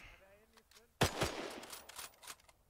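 Gunfire in a multiplayer military simulation game: a single loud, sharp shot cracks out midway and trails into a noisy rumble and scattered reports, with faint talk just before.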